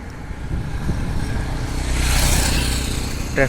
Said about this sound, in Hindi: बाइकर्स किस तरीके से इस रोड पर बाइक चलाते हैं, कार वाले किस तरीके से चलाते हैं